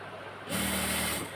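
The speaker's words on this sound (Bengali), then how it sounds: "এখন নিচে সিলে দিচ্ছি হ্যামটা" A sewing machine stitches the hem of a khimar, a steady whirring run starting abruptly and holding for under a second, close and moderately loud, with no talk.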